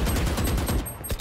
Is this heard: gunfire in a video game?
yes